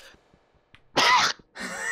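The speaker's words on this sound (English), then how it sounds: "oh, I'm gonna have to sneeze" A single sneeze indoors, a sharp quick burst followed a moment later by a second breathy exhale or groan, quiet overall, with faint sounds before it.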